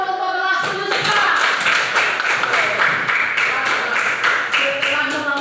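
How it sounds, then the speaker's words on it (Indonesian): A grade 7 class applauds during a school lesson, with a brisk, steady patter of many hands clapping close by for most of the clip after a brief voice at the start. "Kalau begitu tepuk tangan dulu untuk kelas 7 sekarang."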